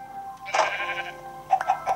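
A sheep bleats once in the video game Minecraft, a short wavering cry heard close and clear, followed by a few quick tonal blips.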